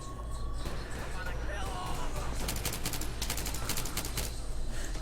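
Gunfire from the video game Wings Battlefield comes as dense, rapid bursts that repeat in clusters under a steady loud background, with talk running over the action.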